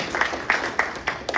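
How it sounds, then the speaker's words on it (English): A few separate hand claps ring out in a room as an audience applauds Captain Jim Jones, sparse and distinct, roughly one every third of a second. "Let's give him an applause."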